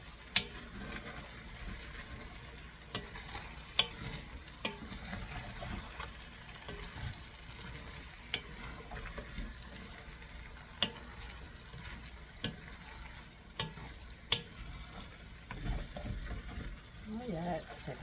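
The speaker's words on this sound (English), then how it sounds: "you're going to add your asparagus and start stirring it around until the shrimp is cooked" Shrimp and asparagus being stirred through a risotto pan, with a faint steady sizzle and scattered light scraping taps of a utensil against the pan, quiet and close.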